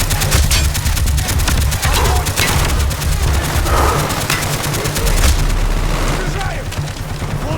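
Sustained machine gun fire and heavy gunshots in the Black Ops video game, loud and dense throughout with booming impacts, while voices shout callouts over the firefight.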